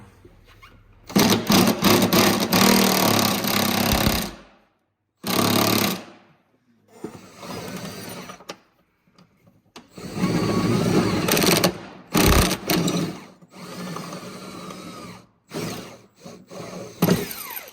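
Impact gun loosening the skid bolts on a snowmobile with a bent skid, firing in loud bursts of rapid hammering rattle separated by short pauses, with some quieter mechanical clatter between bursts.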